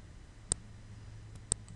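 Mouse buttons clicking while QuickBooks accounting software is in use: two sharp, isolated clicks about a second apart, fairly faint over a low steady hum.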